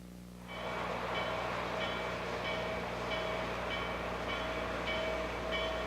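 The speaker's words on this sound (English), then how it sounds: "As the train departs Atlanta, engineer Frank Collins brings the 611" A steam locomotive, Norfolk & Western 611, departs Atlanta, rumbling steadily along the rails with a sustained mechanical roar and repeating rhythmic clatter rising after a quieter start.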